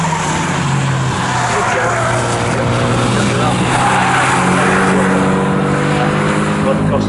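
Race cars in a Carbon8 Coupe Cup race at Snetterton circuit, engines roaring loudly and continuously as the field gets away at the start, with tyre noise mixed in and commentary talking over the top throughout.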